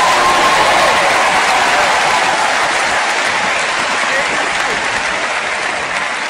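Church congregation clapping during a sermon, loud and sustained, a thick roll of many hands that holds steady and eases slightly toward the end.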